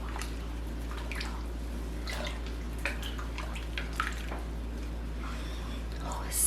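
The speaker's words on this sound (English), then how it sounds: "now all you have to do is stir this up" A lentil taco mixture is stirred in a slow cooker, producing soft wet squelching and scraping sounds in irregular strokes over a steady low hum, close and quiet, with a person talking softly.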